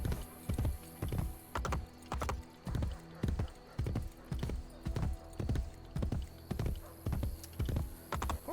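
Rhythmic clip-clop of galloping horse hooves in the video game Assassin's Creed Brotherhood, steady and fairly close, repeating evenly throughout with no talking.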